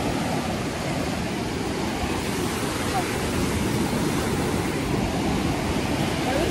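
Constant wash of surf and wind noise buffeting the microphone, dense and loud with no pauses.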